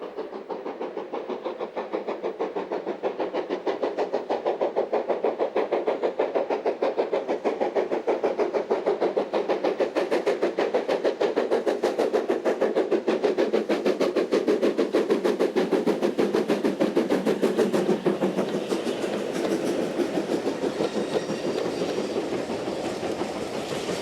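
A steam locomotive of the 4MT class, banked by a second engine, rumbles past steadily with rhythmic chuffing and clattering wheels, sustained and fairly close for the whole stretch.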